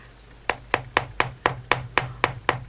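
Nine evenly spaced taps of a nylon hammer striking wire on a metal block, each a sharp, close knock with a brief ringing tail.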